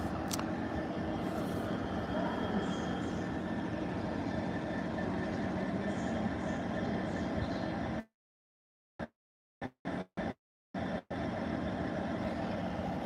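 Class 66 diesel locomotive idling at a York station platform, a steady low engine rumble with continuous mechanical noise, broken near the end by several abrupt dropouts into silence.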